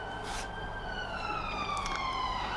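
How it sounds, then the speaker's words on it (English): Wailing sirens sweep up and down at a distance, several overlapping tones over steady background traffic hum. "Fucking sirens"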